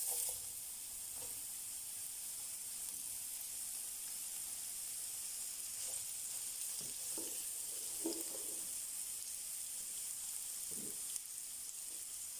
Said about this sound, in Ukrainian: Далі ми будемо обжарювати цибулю та філейку, яка вже промаринувалася.